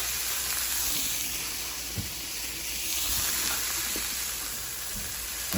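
Bacon frying in a pan, a dense, steady sizzle and crackle heard up close, with occasional soft knocks and stirring sounds breaking through the continuous hiss.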